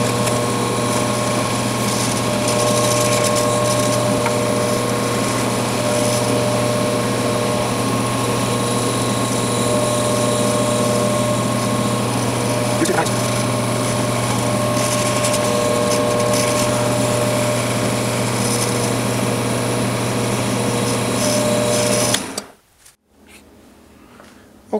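An elk antler pen with copper parts spins on a lathe while polishing compound is buffed in after 12,000 grit sanding. The motor gives a steady, loud, even hum that cuts off abruptly near the end.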